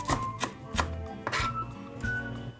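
Spring onion and coriander being chopped on a cutting board for pork larb, a series of sharp knife strikes landing roughly every half second, close and clear with no talk.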